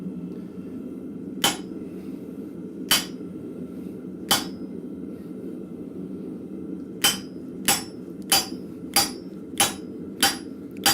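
A blacksmith hammers on an anvil to finish a hole through hot steel, sharp ringing strikes spaced apart at first, then a quicker steady run of blows near the end, close and clear over a low shop hum.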